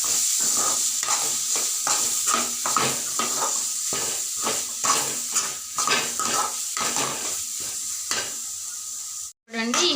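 Prawn fry with cumin powder, garam masala and onions is stirred in a pan over a steady loud sizzle, with a spoon repeatedly scraping and clinking in quick rhythmic strokes, ending in a brief sharp knock.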